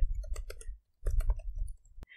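Keys on a computer keyboard clatter in quick irregular bursts of clicks, with a short pause midway and a sharp final click, close and fairly quiet.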